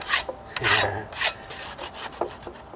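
Old wooden deck stairs are scraped by hand, giving a series of harsh, rasping strokes in an uneven rhythm, close and fairly loud, with no talking.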